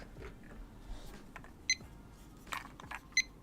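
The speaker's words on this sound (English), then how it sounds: "This just beeped at me." In a home office, an electronic device gives two short, high, clean beeps about a second and a half apart, faint over quiet room noise.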